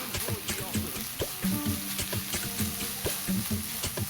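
Minced onions and green onions sizzle in half a tablespoon of oil in a wok over low heat, with close, steady crackling and spatter interrupted by scraping stirs and clinks.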